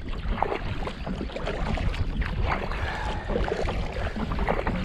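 Strong gusty wind buffets the microphone while a kayak or canoe is paddled on the Fossdyke Navigation, with steady loud rushing and churning water noise throughout and no voices.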